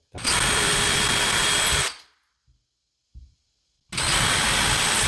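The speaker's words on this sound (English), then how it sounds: "after my pilot holes are drilled" A power drill whirs loudly for about two seconds drilling a pilot hole into drywall, stops, then starts again after a short pause with a couple of faint knocks between.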